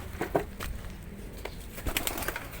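Pigeons coo nearby in short, soft, repeated bursts, with light fluttering and shuffling among them and no speech.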